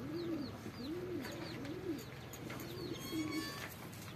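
Pigeons cooing close by, a repeated rolling coo about every half second over a low background murmur and a few faint chirps.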